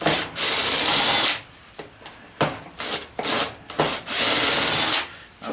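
A power drill pulling screws out of a scrapped ride-on horse toy, loud, close bursts of whirring alternating with short gaps, two long runs and several brief spins, with no talking.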